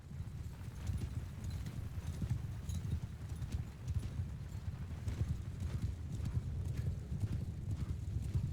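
Cavalry horses charge across a battlefield in Mount and Blade II: Bannerlord, a dense, continuous drumming of many hooves with a low rumble throughout, loud and close, with no speech.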